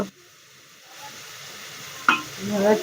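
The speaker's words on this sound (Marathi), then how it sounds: "मिरची घालून घेतलेली, आता चांगला परतून घ्यायचं" Tomato with chilli, salt, chilli powder and garam masala sautéed and stirred in a pan in a home kitchen, a soft sizzle with a sharp scrape of the spoon partway through and louder frying toward the end, no talk.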